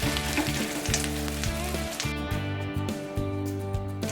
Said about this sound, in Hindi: तो अब बस हम इसको इस तरह से तवे पे डाल देंगे